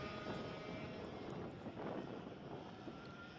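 Air-cooled 100cc two-stroke single-speed racing kart engines drone steadily at a junior race, a dense, continuous blur of several engines at moderate distance with gentle swells as karts pass.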